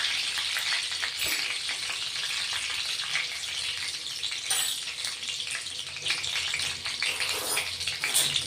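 Mustard seeds, cumin and curry leaves sizzle in two ladles of hot oil for a mixed vegetable curry, a dense, continuous crackling fry with scattered pops, steady and close throughout.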